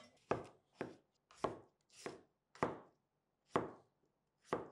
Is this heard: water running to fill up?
no